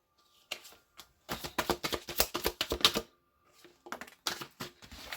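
Tarot cards pulled from a deck and laid out on a table in quick, crisp bursts of shuffling and slapping, with short pauses between groups, close and fairly loud.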